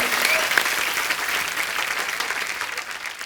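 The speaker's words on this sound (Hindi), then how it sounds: "चलो अभी फिरंगी के लिए जोरदार तालियां बजा दो।" A television comedy show's studio audience breaks into loud, sustained applause, dense and even, with a faint voice briefly audible under the clapping.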